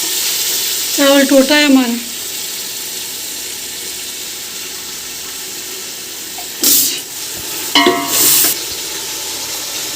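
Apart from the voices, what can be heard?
rice frying with garam masala for pulao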